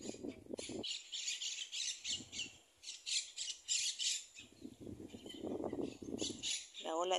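Crows squawk in repeated harsh bursts at a lagoon hit by drought, loud and close, with someone talking between and over the calls.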